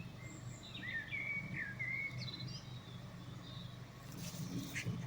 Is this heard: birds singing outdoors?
yes